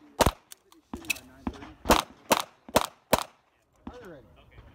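Gunshots at a shooting match, about seven loud, sharp reports spaced unevenly within a few seconds, each with a short ringing tail, and a brief voice near the end.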